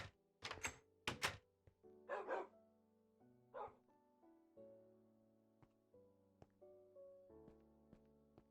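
A Minecraft dog gives several sharp barks close up, followed by scattered thunks and soft blocky game sounds, with no one talking.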